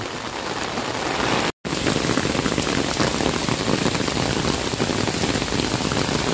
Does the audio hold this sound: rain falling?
yes